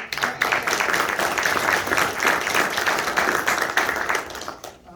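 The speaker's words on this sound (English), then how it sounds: "round of applause for Leroy Ekman" A room full of fellow commanders and chiefs gives a sustained round of applause at an Air Force chief master sergeant promotion ceremony, dense steady clapping that stays loud throughout and tapers off at the very end.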